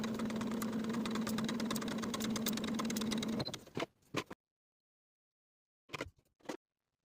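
A sewing machine stitches darts on a V-neck boho top from the outside edge to the point, a steady mechanical whir running for about three and a half seconds before stopping, followed by a few brief handling clicks.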